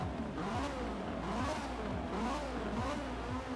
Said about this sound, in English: So we want to listen to this V8.